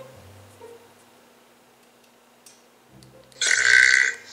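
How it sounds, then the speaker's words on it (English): A single loud, rasping burp from a burping challenge bursts out after a few seconds of near silence and lasts under a second. "These are burping challenge videos."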